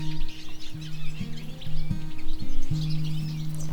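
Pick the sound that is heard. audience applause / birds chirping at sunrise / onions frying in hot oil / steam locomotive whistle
birds chirping at sunrise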